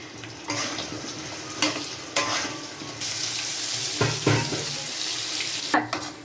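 Onions frying in a pan give a dense, loud sizzle with repeated sharp scrapes of a spatula stirring them, up close and without talk.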